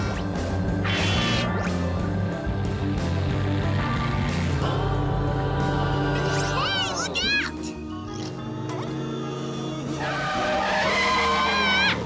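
Tires squeal and skid from a speeding cartoon car driven recklessly, with rising and falling screeches layered over music and sound effects, loud and close, while a character's voice is heard.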